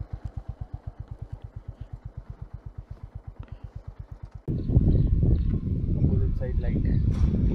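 A Honda H'ness CB350 motorcycle idles with an even, rapid thumping beat, close by, before a louder rush of mixed noise with voices takes over as the bike is parked in a Tibetan village.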